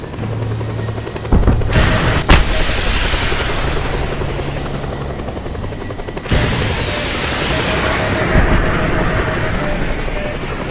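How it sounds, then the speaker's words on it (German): A loud, broad roar with bursts of rushing noise that swell and hold as a rocket ignites and blasts off in Just Cause 2, continuous throughout. "Rakete Bumm, gestartet!"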